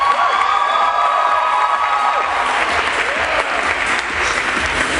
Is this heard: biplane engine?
no